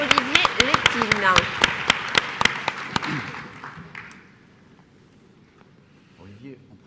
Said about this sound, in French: Je vous demande demande d'applaudir le directeur de l'Office de tourisme de Biarritz, Olivier Lépine.